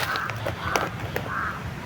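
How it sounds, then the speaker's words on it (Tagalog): Crows give a few harsh caws over a constant outdoor background hum, moderately close. "may uwak mga kaidol"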